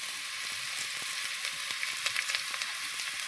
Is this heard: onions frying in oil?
yes